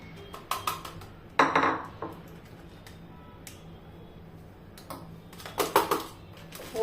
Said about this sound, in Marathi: असा टॅप करून घ्यायचा. टॅप करायचा आहे बघा, असं टॅप करायचं.